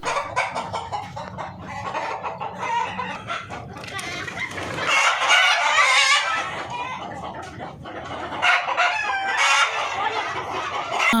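Country chickens on a farm in Oman cluck steadily while a rooster crows loudly nearby several times, the calls overlapping in a lively, close barnyard chorus.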